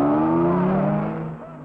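Ferrari racing car at speed on the road during the 1953 Mille Miglia, its engine note a loud, close harmonic drone that slowly falls in pitch and fades slightly as it passes.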